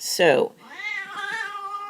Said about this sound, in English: That's my cat talking to the dog.